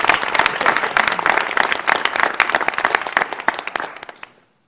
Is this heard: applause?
yes